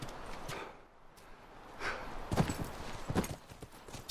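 Horses trot in the video game The Last of Us, their hooves clip-clopping in uneven bursts that grow louder and closer, with a brief snort amid quiet ambience.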